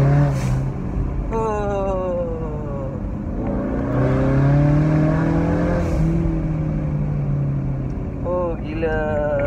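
A Ford Mustang with a 2.3-litre four-cylinder engine revs up and holds, a steady rising and falling engine drone under continuous nearby talking.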